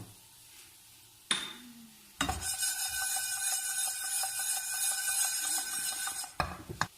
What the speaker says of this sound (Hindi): इसे हमने सिर्फ हल्का सा ड्राई रोस्ट करना है